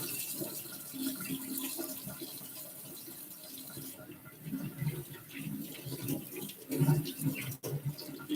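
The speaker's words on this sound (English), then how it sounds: "Another hand wash" A tap runs steadily while hands are washed under it in a home kitchen, producing a continuous close splash with small bumps and shifts in the water, and a person talking over it.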